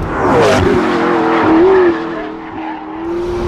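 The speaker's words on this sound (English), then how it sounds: "Listen to that wheel spin. We're digging for traction." A McLaren sports car on a track spins its wheels while digging for traction, its engine loud and close with a high strained tone and a faint tire squeal before the pitch settles.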